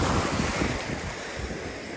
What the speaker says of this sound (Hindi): कुछ वेव्स हैं इसके अंदर